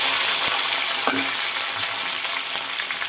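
Onions sizzle in hot oil in a pan with fennel seeds, cashews and curry leaves while a spoon stirs and scrapes through them for a mushroom kurma, a steady close frying hiss broken by a few louder clinks.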